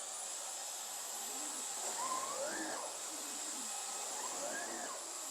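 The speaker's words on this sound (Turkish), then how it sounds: "Şimdi şöyle halılarda biraz böyle kabarık halılarda çalıştıralım makineyi bir. Sese dikkat edin." Bosch Serie 8 cordless vacuum cleaner running over fluffy carpet, a steady loud motor whine and hiss that swells slightly as it is pushed back and forth, with a faint voice underneath.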